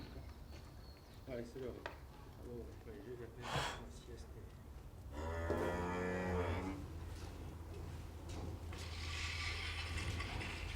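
Cows on a farm, with a deep mooing call rising in the middle of the scene and a few snorts and rustling sounds around it, heard under nearly constant nearby talking.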